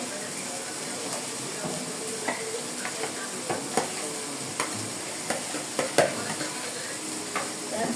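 Boiled taro being sautéed in a pan, an even sizzle broken by repeated sharp scrapes and clacks of a spatula stirring, close and moderately loud with no talk.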